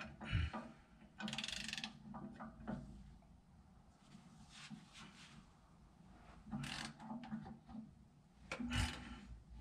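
A ratchet tightens a bolt on an Insta-chain kit fitted to an International 7400 truck, giving several short bursts of close, rough clicking and grinding separated by quieter pauses.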